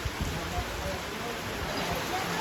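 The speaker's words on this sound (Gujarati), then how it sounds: "અત્યારે અમારા નવા માલકડામાં વરસાદની ધોધમાર ચાલુ થઈ ગઈ છે" A downpour falls over a village cattle shed area, a loud, dense, continuous wash of rain with faint voices underneath.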